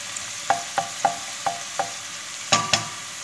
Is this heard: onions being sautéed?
yes